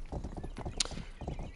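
A horse gallops in the video game Rustler, its hoofbeats sounding as a quick uneven clip-clop with a short bright clatter in the middle, moderately loud and with no voices.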